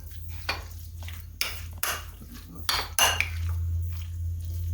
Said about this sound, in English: So now I just need to mix this up well.